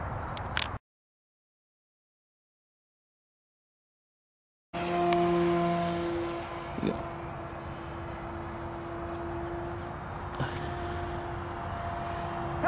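An experimental electric RC plane built from a Papa John's pizza box, with a steady motor whine in flight after a silent gap, one brief louder bump midway.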